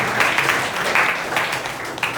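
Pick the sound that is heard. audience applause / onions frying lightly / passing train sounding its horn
audience applause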